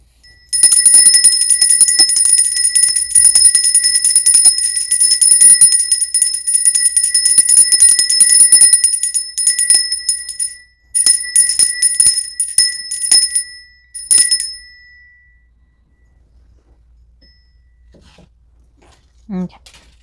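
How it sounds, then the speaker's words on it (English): A small hand bell rings loudly and repeatedly with a bright metallic tone for about ten seconds, pauses, then rings in two shorter bursts before falling silent. "I'm gonna ring my little bell"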